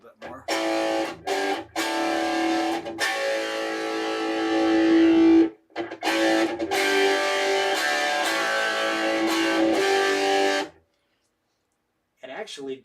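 An electric guitar plays through a first amp with a fuzz effect, giving thick, distorted sustained notes and chords in loud bursts separated by brief pauses, ending in a short silence before a last fragment.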